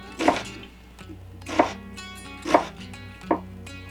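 Onions chopped with a knife on a cutting board for a buffalo chicken casserole: four sharp, separate chops spaced about a second apart, close and clear over quiet background music.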